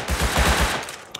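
Quick burst of rifle fire in the survival game Rust, several close, rapid shots aimed at a player in a hazmat suit, followed by a single sharp report.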